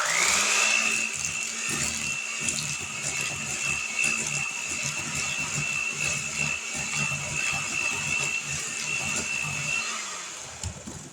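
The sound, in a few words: mixer mixing oatmeal raisin cookie batter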